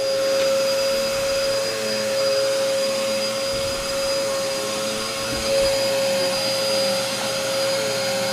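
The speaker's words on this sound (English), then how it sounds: "gotta vacuum the living room so we can steam clean the carpets" A vacuum cleaner runs steadily while a living room carpet is vacuumed, giving a continuous loud motor whine with a constant pitch and slight surges as it moves, and no talking.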